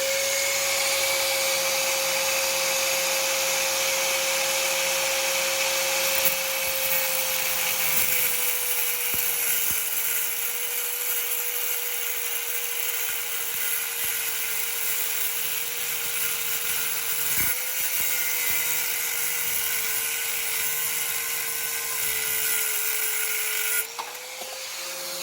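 A power tool cuts through an overly long bolt while installing a timing tab on a 1967 Pontiac Firebird 350, giving a loud, steady high-pitched whine that runs almost unbroken for about twenty-five seconds before cutting off.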